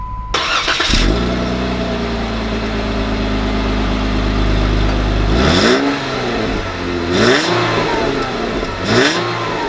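A Jeep Wrangler Call of Duty Modern Warfare 3 edition starts up and idles loudly, then revs hard through several rising gear pulls as it drives off, close and without talk.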